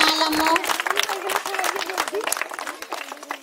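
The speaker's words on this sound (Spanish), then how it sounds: "Vamos a darle un fuerte aplauso" An audience at Escuela Primaria Héroes del 47 applauds to welcome a visitor, with dense, crackling clapping that fades gradually beneath a voice speaking over it.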